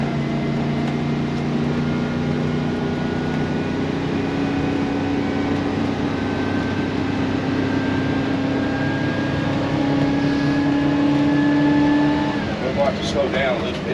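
A 2004 Holiday Rambler Vacationer 36DBD Class A motorhome with an Allison transmission cruises along, its steady engine drone carrying a slowly rising whine as it accelerates, with people talking inside the cab over it.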